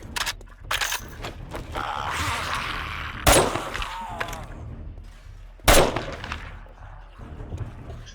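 Gunfire in the 7 Days To Die zombie video game, a few loud sharp shots spaced several seconds apart amid rough background noise.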